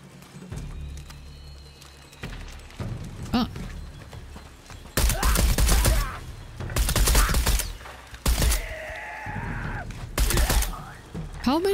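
Several loud bursts of rapid gunfire in the video game Shadow of the Tomb Raider, spaced a second or two apart, mixed with game sound effects.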